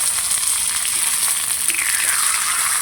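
Homemade sabudana (sago) papad frying in a little hot oil, a steady close bright sizzle with crackling bubbling throughout, no talk.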